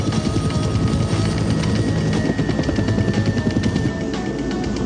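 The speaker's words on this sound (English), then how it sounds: "Why is this plane buzzing us?" A plane buzzes low overhead in an action-movie scene, a loud, continuous droning engine roar with a steady pulsing rotor-like texture filling the whole stretch and no speech.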